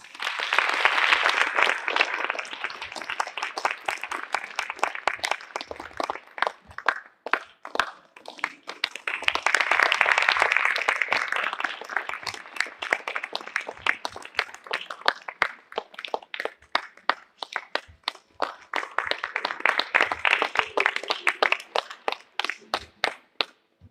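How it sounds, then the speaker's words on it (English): Audience applause fills the hall at an Arangetram, a classical dance debut, in three long swelling waves of dense clapping with brief quieter dips between them, fairly close and sustained. "Please give her a round of applause."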